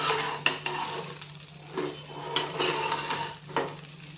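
A spoon stirs sabudana khichdi in a pan, making soft scraping and clinks with a few sharper knocks against the pan's rim, close and fairly quiet over a steady background hum.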